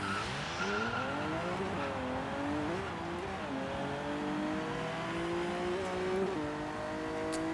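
A Lotus 311 in Forza Horizon 3 launches from a standstill and accelerates hard, its engine note climbing steadily through gear changes with a sustained loud roar and brief tire squeal.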